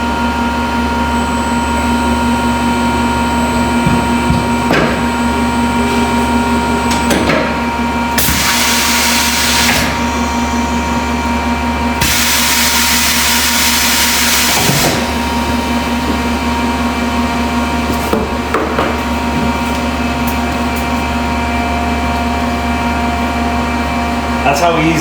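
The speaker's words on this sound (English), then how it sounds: "That's how easy it is to take a tire off with this machine." A tire changer machine works a 35-inch tire off its rim, giving a steady mechanical hum with two loud bursts of hissing air partway through, close by and continuous.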